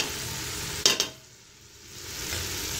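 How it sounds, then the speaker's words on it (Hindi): Shredded cabbage fried and stirred in a pot, a steady close sizzle with a couple of sharp scrapes near the one-second mark before the frying noise briefly dips and then swells back. "थोड़ी देर के लिए हम इसे अच्छे से भूनेंगे"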